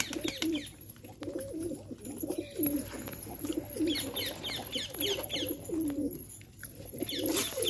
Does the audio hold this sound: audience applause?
no